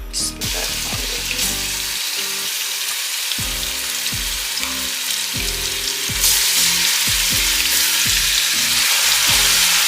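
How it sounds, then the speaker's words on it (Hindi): Beef pieces fry in their own marinade oil over a medium-high flame, giving a steady, fairly loud sizzle with splashy, water-like crackles and bursts throughout, alone with no talk. "अब हम 5 मिनट तक इसे मीडियम टू हाई फ्लेम पर भून लेंगे।"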